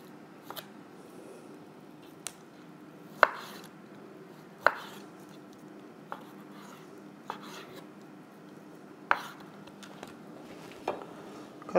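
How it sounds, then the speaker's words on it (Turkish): Sharp knife strokes chop vegetables and meat into even julienne strips for an air-fryer vegetable fajita, landing as separate near, crisp cuts about every second over quiet room tone. "Sebze ve etimizi tamamen jülen şeklinde keseceğiz eşit boylarda."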